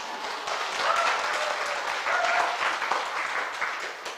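An audience at a Korean health lecture claps for several seconds, a dense, steady patter of many hands that stays fairly even before fading slightly at the end.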